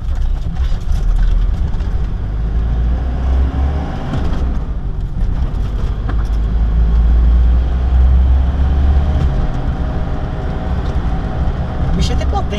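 A Ford Ranger 3.0 4x4 turbo diesel pickup on a rough road: a continuous low engine and road rumble that swells and eases, heard from inside the cab with scattered bursts of speech on top.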